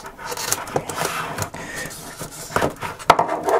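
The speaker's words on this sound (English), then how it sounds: "I'm gonna use my trusty knife to break them free from this oversized packaging" A knife cutting and prying a smart plug free from oversized plastic packaging, a run of scraping, crinkling and sharp snapping clicks at close range, uneven in rhythm, with no talking.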